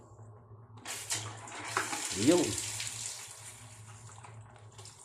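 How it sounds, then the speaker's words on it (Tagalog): Water gushes from a faucet mixer valve as it is turned on, a splashing hiss starting after a second and continuing, with someone speaking briefly over it. "Pag pinihit ito, tubig labas."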